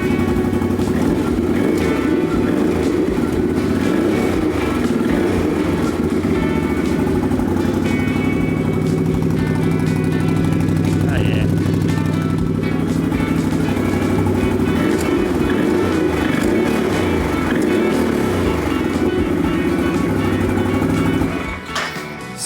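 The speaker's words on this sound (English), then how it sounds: "of course we gotta test the exhaust and see how it sounds" A Can-Am Outlander XMR ATV fitted with a new aftermarket exhaust runs close by, with a loud, throaty engine note holding steady with slight rises and falls for about twenty seconds before cutting off.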